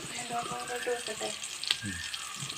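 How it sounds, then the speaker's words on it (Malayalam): Quiet, steady sizzling of fish frying in a pan, with soft voices faintly underneath. "മീൻ വറുത്തത് റെഡിയാവുന്നു"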